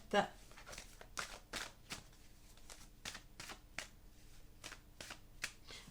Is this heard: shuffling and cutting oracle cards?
yes